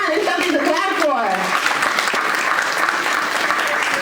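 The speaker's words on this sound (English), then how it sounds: "Come on, it's something to clap for." Audience applause at a Garifuna Veterans of America award ceremony, sustained dense clapping from a crowd throughout, with a voice speaking over the start.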